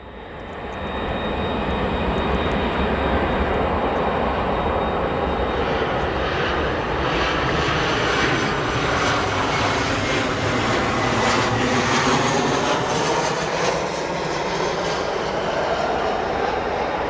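A fixed-wing airplane arriving at Chicago O'Hare airport roars steadily and loudly with a broad engine rumble and jet whine that hold for the whole span, with no talk over it.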